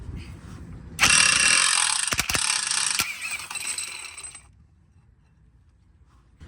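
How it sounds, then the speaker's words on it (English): A burst of impact wrench rattling off a 32 mm nut on a 2023 CFMOTO UForce 1000 during a clutch kit install, loud and continuous for about three seconds with a few sharp knocks, then dropping to quiet shop background. "you're gonna need a 32 millimeter socket for that nut and a bigger impact"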